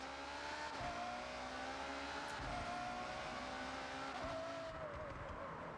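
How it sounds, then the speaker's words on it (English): A Ferrari engine in the Forza Horizon racing game drones steadily, its pitch climbing through the gears with short dips at each shift. "now this does sound like a Ferrari a lot more"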